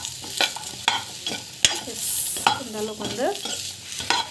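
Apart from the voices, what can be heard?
dates being sautéed and stirred in a pan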